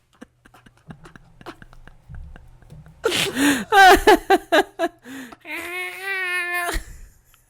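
A cat with a brain freeze lets out a strained, gargling yowl played from a video, preceded by faint clicks and soft rustling, then a few raspy bursts before a long wavering moan.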